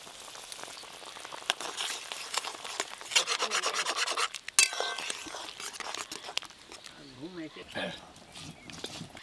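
Mustard paste goes into a simmering tangy curry of small fried mourala fish with green mango, giving wet rubbing, scraping and bubbling sounds from the pot at close range, with brief sharp clatters midway.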